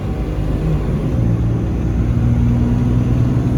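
A diesel truck at full throttle roars with a loud, steady low engine rumble from inside the cab, the pitch climbing gradually as it accelerates, with no talking.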